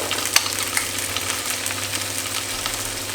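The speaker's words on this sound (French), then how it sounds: "Je vais le faire légèrement doré, l'ail et l'oignon." Garlic and onion sizzle steadily in a pan as they fry until lightly golden, a close, even hiss with a few small pops and no talking.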